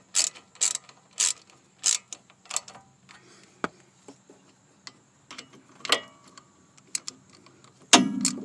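Brake assembly bolts are tightened with a ratchet during a sticking brake repair, producing close, loud bursts of ratcheting clicks in short irregular strokes with brief pauses and a final heavier clack.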